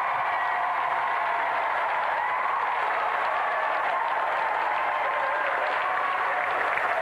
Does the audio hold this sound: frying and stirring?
no